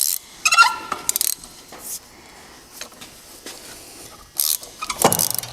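Wrench work loosening the last bolt on a Farmall tractor's manifold during an in-frame overhaul: close metallic clinks, ratcheting clicks and scrapes in short separated bursts, with no talking.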